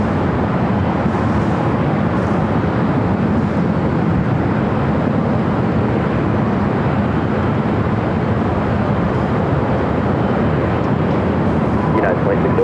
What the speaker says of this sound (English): is Delta A350. This flight heading to Atlanta